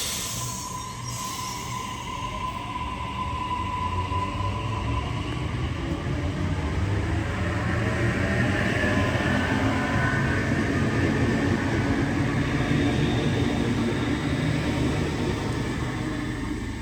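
A Sydney Trains CAF Civity train rumbles steadily as it pulls away from Auburn station, wheels clattering over the rails with a faint squeal, the heavy drone building slowly.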